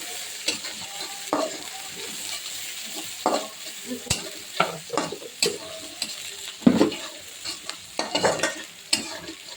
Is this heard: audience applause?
no